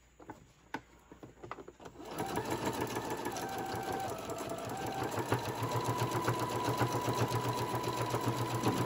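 A sewing machine stitches a fabric bowl koozie, starting after a couple of seconds of light clicks and handling, then running in a fast, steady mechanical chatter that stays close and fairly loud.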